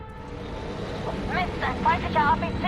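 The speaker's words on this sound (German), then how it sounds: "Mist, ein feindlicher APC." Low engine rumble of an enemy armoured personnel carrier in the shooter game FEAR 2, a steady vehicle drone that swells slightly, with a voice talking over it.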